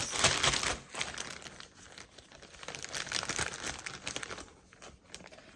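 Crinkly plastic packaging crackles and rustles as scissors snip it open, a steady run of sharp crinkles and small tearing bursts at close range, with no talking.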